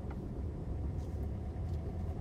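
A car engine idles and rumbles steadily at close range inside the vehicle during a driving lesson, a constant low drone with no talk.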